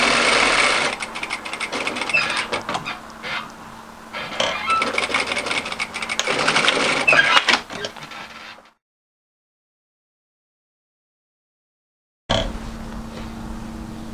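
An overlocker stitches the hem edge of a mid-length wrap cardigan, a fast, steady mechanical whir running close and loud for about eight seconds, breaking into silence, then starting up again briefly at the end.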